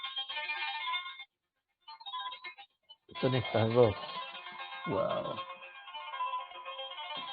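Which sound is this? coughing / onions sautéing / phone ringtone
phone ringtone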